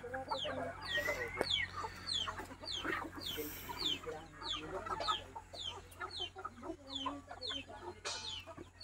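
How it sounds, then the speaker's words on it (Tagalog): Chickens cluck and chatter steadily nearby, with scattered sharper calls from several birds over a low farmyard hum. "Nagala pa kasi yung ibang mga manok."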